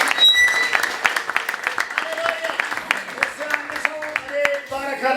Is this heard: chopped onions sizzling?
no